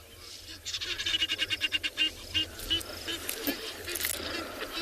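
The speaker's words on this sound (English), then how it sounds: "The Egyptian geese again." Egyptian geese call at sunrise on an African safari, a rapid series of harsh honking notes that comes in a burst and then breaks into scattered calls over a soft background of other wildlife.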